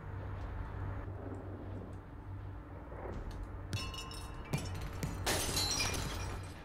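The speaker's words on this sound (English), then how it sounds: "Ooh, all the fun of broken glass." Glass shattering in the video game Among the Sleep, a sudden bright crash of breaking glass followed by scattered tinkling shards, close and clear over a low steady background hum.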